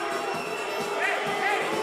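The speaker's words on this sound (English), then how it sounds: "Jonatas Melo hearing it from the fans here. Booing it before he even shoots it." Basketball crowd at a FIBA 3x3 Olympic qualifying game jeering a free-throw shooter during an 8-8 tie, a steady wash of crowd noise with rising, wavering booing swells, loud and continuous throughout.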